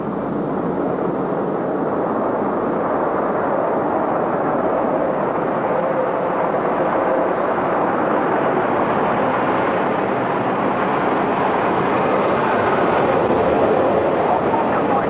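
Steady broadband roar of an airplane in flight heard from inside the cockpit, a constant loud engine and airflow rush with no breaks.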